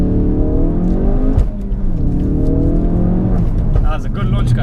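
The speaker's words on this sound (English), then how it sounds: "then you build up the revs. It's 5k, then you just let go of the handbrake, you drop the clutch" A 2017 Ford Focus RS using launch control: the engine is held high in the revs and then pulls away hard, climbing through the gears with a strained, rising tone from inside the car.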